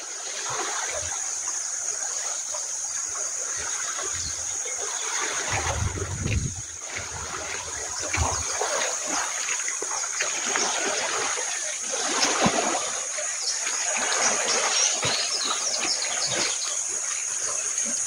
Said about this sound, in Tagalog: Bali po, high tide siya.